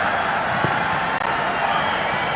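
A large crowd of about 12,600 at a women's football match between Nepal and Myanmar in Dashrath Stadium keeps up a steady, dense roar of cheering and chatter throughout, with no single voice standing out.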